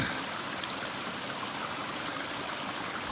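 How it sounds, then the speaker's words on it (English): Spring water flowing out of the ground in summer countryside, a steady, close, full rushing stream sound that runs unbroken and fairly loud throughout. "I finally found water. It is literally coming out of the ground right over there."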